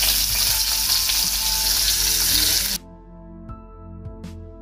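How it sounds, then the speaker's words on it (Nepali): Onion sizzles loudly as it hits hot oil for a home-made fish soup, a bright crackling fry that runs steadily, then drops off abruptly into a quiet kitchen with faint clinks. "यहाँ तेल खरिरहेको छ, त्यसको लागि चाहिँ म फर्स्टमा यहाँ प्याज हाल्छु"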